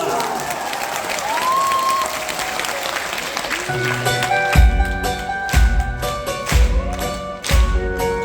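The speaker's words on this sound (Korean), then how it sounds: "박수 치면서" Fan-meeting audience clapping along with a singer as a song begins, with broadband clapping and crowd noise up front, followed by steady rhythmic beats and music with a sung voice.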